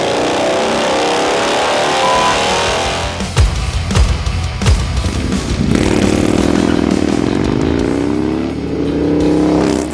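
A 2024 Harley-Davidson Low Rider ST motorcycle with an MHP Stage II engine build rumbles loud and close, idling and then revving in sharp bursts before settling into a sustained, rising engine drone, with no voices.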